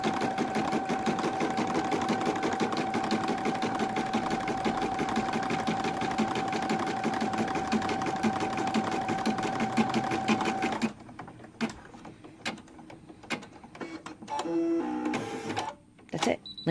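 A sewing machine stitching fabric panels for a stuffed ball runs in a fast, steady mechanical rattle with a whine for about ten seconds, then stops, leaving soft handling clicks and a voice talking.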